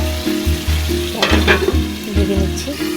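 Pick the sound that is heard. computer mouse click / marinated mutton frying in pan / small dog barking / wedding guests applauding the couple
marinated mutton frying in pan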